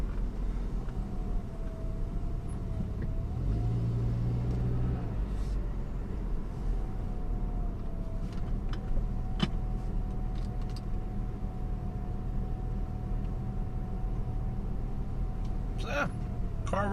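A tuned Saab 9-5 with a 260 bhp tune idles steadily and close by, a low continuous engine drone with a faint whine held throughout and a brief throatier swell early on.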